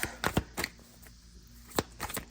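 Tarot cards are shuffled by hand in a few quick, close bursts of riffling and slapping, separated by short pauses of quiet.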